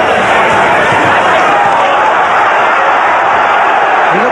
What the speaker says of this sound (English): I suppose they can't really hear it above the crowd.